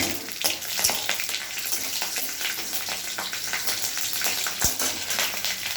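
Nigella seeds and slit green chillies fry in hot oil with a steady, even sizzle and occasional crackles and pops, close and alone without any talk.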